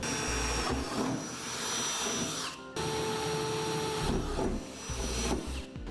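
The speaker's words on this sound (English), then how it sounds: "I can step up drill bit sizes and drill until I've drilled them out to a 1/2 inch" A power drill whines steadily, speeding up and slowing in two long runs with a brief pause between, close and fairly loud, step-drilling holes out to 1/2 inch for a fifth-wheel hitch on a 2012 Chevrolet Silverado.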